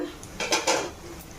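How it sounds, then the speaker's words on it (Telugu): Garlic cloves are mixed into a cashew and mango curry in a metal pan, making a quick burst of close scraping and clattering of the spoon against the pan, with no talking. "వెల్లుల్లిపాయ గుళ్ళు వేసుకొని ఒకసారి కలిపేసుకుందాం"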